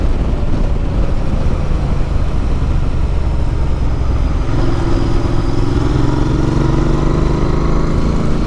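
A Royal Enfield Interceptor 650 motorcycle rides on a low-grip surface, its engine a steady, loud, close drone that rises in pitch as it accelerates toward the end, with no talking.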